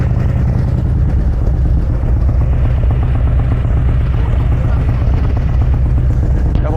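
A Harley-Davidson Road Glide Special with a 131ci Stage IV engine and CVO exhaust rumbles loud and close, a deep continuous throbbing idle with pulsing firing beats and no clear rises.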